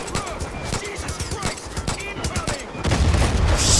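Machine gun fire in the shooter game Far Cry 5, a dense, loud, continuous rattle of rapid shots that swells near the end.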